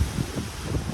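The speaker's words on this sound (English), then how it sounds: "All I know is wind speeds are probably gusting to 70, 80 miles an hour." Strong storm wind gusting in Vietnam buffets the microphone with loud, low rumbling blasts that swell and ease across a brief moment, alone without talk.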